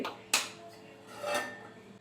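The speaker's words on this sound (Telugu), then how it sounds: "ఇప్పుడు స్టవ్ వెలిగించుకొని గిన్నె పెట్టుకుందామండి" A cooking pot is set down on a lit stove while upma is being prepared, giving two sharp metallic clanks about a second apart with a faint ringing tail in a quiet kitchen.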